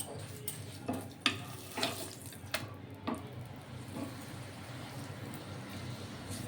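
Stuffed aloo paratha fries in white oil in a pan, a soft, steady sizzle broken by scattered crackles and small pops, faint and close, with no voices.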